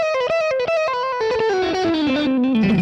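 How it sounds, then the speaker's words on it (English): A rapid electric guitar tapping run on a Phrygian dominant scale fragment, quick distorted notes tumbling downward in pitch over about three seconds, close and loud, with no voices. "it's a really famous sound you hear in tapping"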